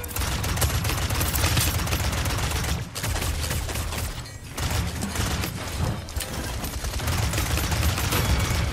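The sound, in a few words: gunfire from the video game Paladins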